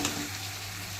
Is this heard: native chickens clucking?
no